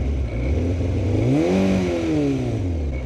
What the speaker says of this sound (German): Also der Motor geht fast aus und ich muss irgendwie Gas geben